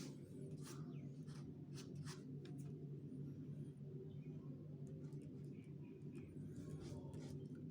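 Chalk or marker strokes on a board during a math lesson on lines and angles, a series of short scratchy taps over a steady low room hum, fairly faint.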